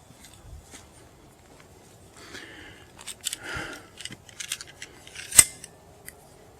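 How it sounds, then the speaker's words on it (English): In a horror video game, a knife slices through a spider web in a run of sparse, close, crisp snipping and swishing cuts over near silence, ending in one sharper snap. "I am literally pulling a knife out to cut his web"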